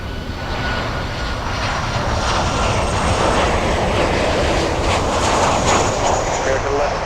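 An American Airlines jet landing on runway 9 at Miami International Airport, its engines a loud, steady, close roar filling the whole stretch without a break.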